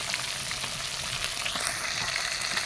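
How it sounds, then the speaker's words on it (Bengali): Fish frying in hot oil gives a dense, continuous sizzle and crackle, close and steady, with no voices. "হয়ে আমরা মাছগুলো ভাজি করতেছি,"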